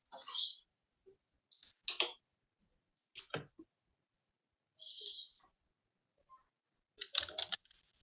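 Computer keyboard typing in several short, clicky bursts separated by pauses, fairly faint and close, with no voices in between.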